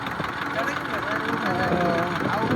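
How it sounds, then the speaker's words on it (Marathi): A tractor engine runs steadily in a field being worked for maize sowing. The drone is loud and continuous, with a low mechanical rumble throughout. "अशा तऱ्हेनं चालतंय. असा ट्रॅक्टर चालवतोय."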